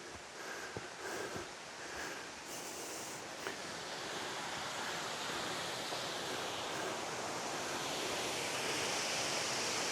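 Spoon Creek Falls on the Olympic Peninsula, heard as a steady, soft broadband rush of falling water from a distance, with a few faint footsteps and rustles early on.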